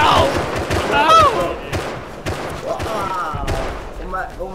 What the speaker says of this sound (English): Was that an explosion right down there?